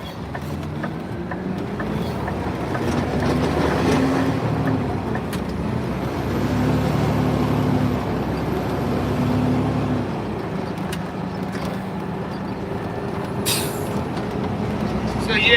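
A 2023 Peterbilt waste-collection truck rumbles along a route in a steady low engine drone, with road noise and a brief air-brake-like hiss near the end and no clear talk.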